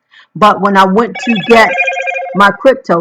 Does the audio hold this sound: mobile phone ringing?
yes